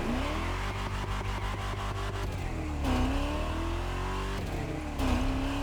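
A 784-horsepower widebody Chevelle in The Crew Motorfest roars loud and close, its engine revving up and dropping sharply at each slow gear change, twice in a few seconds, with a steady rumble underneath.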